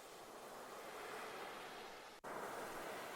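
Ocean waves wash in a steady, even roar with no distinct breaks, except one brief dropout near the end.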